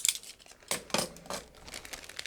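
A sealed plastic bag holding a Tamiya 1/12 Ducati Superleggera V4 model kit is cut open, producing a few quiet, crinkly bursts of rustling plastic in short separate spurts, with no voices.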